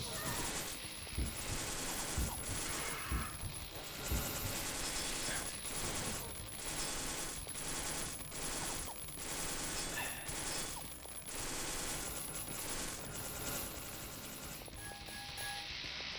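Guns fire repeatedly in the video game The Citadel, with bursts of shots and metallic impacts recurring every second or two over a dense, noisy game soundscape, without speech.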